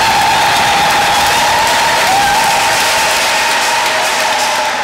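Steady, loud applause fills a church during a Mass, continuous clapping from a large congregation with no voices over it.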